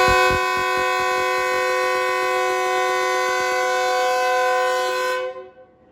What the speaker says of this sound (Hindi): और रवाना होना शुरू कर दिया ट्रेन ने।